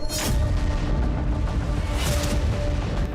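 Loud, rumbling explosion blasts at night in Kyiv during the Russia-Ukraine war, with broadband bursts near the start and again after two seconds, continuous low roar throughout, no voices.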